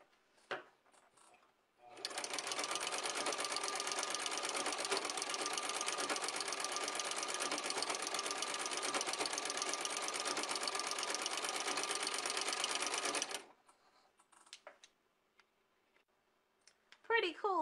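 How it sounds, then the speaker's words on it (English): Sewing machine fitted with a ruffler foot set to gather every 12 stitches, running steadily for about eleven seconds with dense mechanical whirring and clicking, then stopping, with brief talk before and after. "the sewing machine made 12 stitches, then a ruffle, 12 stitches, then a ruffle"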